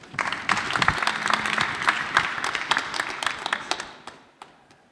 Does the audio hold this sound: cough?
no